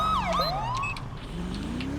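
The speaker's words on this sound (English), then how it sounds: "Again with the sirens." A wailing police car siren from a modded emergency vehicle in a video game sweeps up and down rapidly and loudly over a steady engine hum, with no talking.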